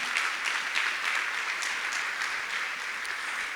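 A church congregation claps during a sermon, a dense, steady round of applause from many hands that carries at an even level without any talk.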